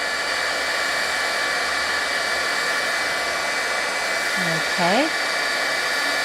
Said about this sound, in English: I'm going to let my heat tool heat up just a little bit.